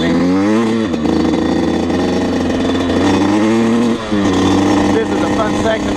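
A Yamaha YZ125 two-stroke dirt bike revs hard while riding, its close, loud, buzzing engine note rising and falling in repeated sweeps, with a brief dip near the four-second mark.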